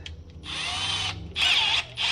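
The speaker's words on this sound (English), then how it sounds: "We're just trying to drill out the top little bit" A power drill bores into an old brake line fitting from a 1972–1993 Dodge truck, whining loudly in two short bursts and then a third, with brief pauses between them and no talking.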